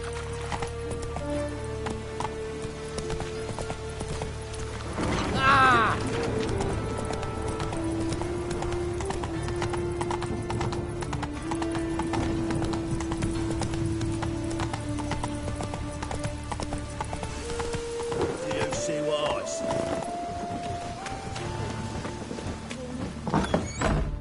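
A horse gallops in The Witcher 3 video game, its hooves drumming in a steady rhythm through most of the stretch, with thuds, a whinny and game music running underneath.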